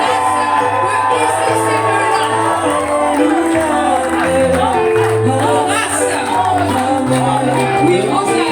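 A large church congregation at a baptism ceremony cheers, whoops and shouts continuously at high volume, with sustained voices blending into a loud, unbroken roar throughout.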